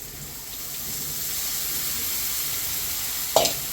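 A mix of safflower greens and gram flour is added to a pan, giving a continuous soft sizzle with a sharp clatter near the end.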